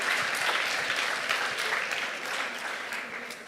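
An audience at a student TED-Ed talk claps steadily and warmly, a dense sustained round of applause that fades a little toward the end.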